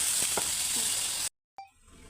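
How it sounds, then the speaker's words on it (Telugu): Onions sizzling steadily in a pan for radish pickle, a constant bright frying hiss with a few soft stirring clicks, then a sudden cut to near silence followed by a faint short tap and quieter sizzle. "ఉల్లిపాయలు చక్కగా ఇలా బ్రౌన్ కలర్లో వేగాయి కదండి"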